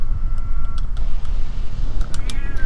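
A cat meows during a Dino Crisis 2 speedrun: a few short tonal calls near the start and a rising call near the end, over steady low game rumble and scattered clicks.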